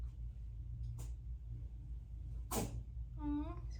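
A single sharp sneeze bursts out close to the microphone indoors over a steady low rumble, followed a moment later by a short voiced sound.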